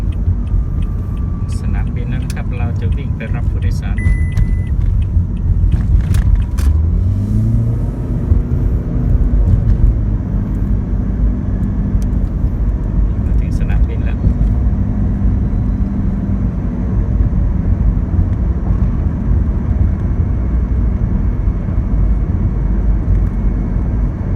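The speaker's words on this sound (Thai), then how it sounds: "มาที่สนามบินแล้วนะครับ" Road traffic and aircraft around Las Vegas airport, a continuous loud rumble of cars with an engine roar swelling and fading in the middle, plus scattered brief higher tones; people talk over it.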